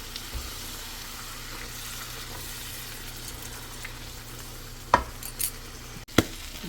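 Beef tripe with cumin powder in a pan gives a soft, steady sizzle, joined near the end by a few sharp clinks of a utensil against the pan.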